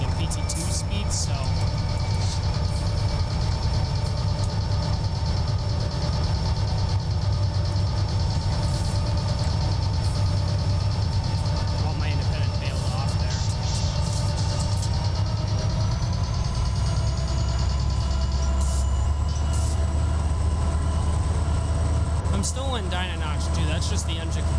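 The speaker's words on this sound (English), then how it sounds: "You hear the air brake kind of squealing away there." A locomotive in a train simulator idles and revs while its air brakes squeal in a thin sustained whine. The engine rumble stays steady throughout and a voice talks over it.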